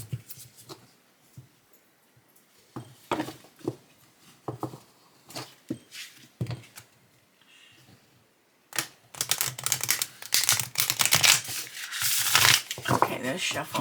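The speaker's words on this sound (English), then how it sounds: "All right, so let's see how they shuffle." Heavy-cardstock Starseed Oracle deck cards being shuffled by hand, starting as scattered soft taps and rubs, then building into a dense, continuous, loud riffling burst of crisp card flicks close by.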